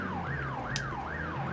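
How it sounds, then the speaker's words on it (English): Police van siren in The Getaway on PS2, a loud wailing tone rising and falling in steady repeated sweeps over engine rumble. "That's the police van."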